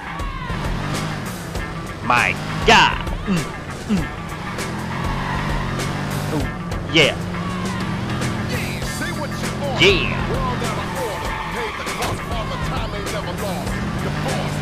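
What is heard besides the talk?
car engine and skidding in the video game Watch Dogs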